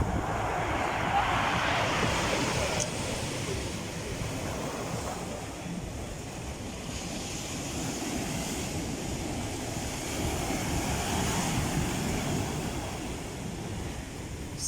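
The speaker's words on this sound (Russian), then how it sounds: "Вот такое сегодня море." Steady broadband roar of sea waves and gusting wind on a cold, rough day at the Lazarevskoye coast, continuous and fairly loud, with surf wash swelling and easing and wind buffeting the microphone throughout.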